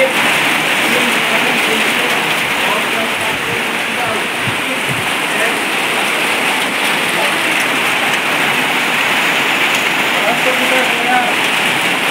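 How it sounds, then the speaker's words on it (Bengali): Heavy rain pouring steadily outside, a dense, even roar of drops hitting surfaces that holds at constant loudness throughout, with no voices. "এদিকে আমি রান্না করছি আর হঠাৎ করে শুনছি বাইরে বৃষ্টি, দেখো অবস্থাটা।"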